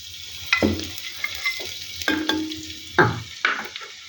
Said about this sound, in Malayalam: ചട്ടി ചൂടായി അതിൽ ഞാൻ കുറച്ച് എണ്ണ കൊടുക്കുകയാണ്.